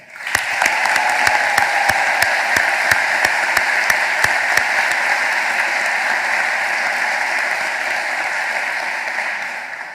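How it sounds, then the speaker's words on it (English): Graduates receive a dense, sustained round of applause at a chapel graduation ceremony, with sharp individual claps standing out early in the steady, loud wash of clapping. "let's start with a rousing round of applause for the graduates for 2022"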